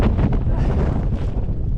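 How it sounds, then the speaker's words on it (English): Strong wind gusts through a snowstorm on Helvellyn, a loud, roaring buffet pounding close against the microphone with no letup. "when that wind hits, it really does hit"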